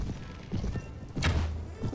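Horse hooves clip-clopping at full gallop in Mount & Blade: Warband, a short burst of rhythmic thudding with a louder bump near the middle, alone with no talk.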